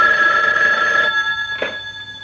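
A telephone in a horror film rings with a loud electronic bell tone that sustains for about a second, breaks off, then gives a second brief ring, close and alone without voices.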